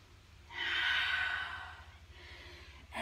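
A slow, soft breath is exhaled during a yoga session, a breathy rush that swells and fades over about a second, followed by quieter breathing in a calm room.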